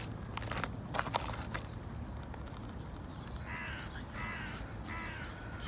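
Several crows caw in short, harsh bursts, mostly toward the end, over a steady outdoor rumble with some early crackling and rustling.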